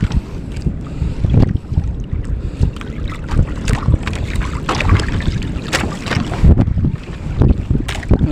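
Motorized fishing boat ride at sea, with a continuous rumbling engine and wind buffeting the microphone throughout, plus splashing water, loud and close.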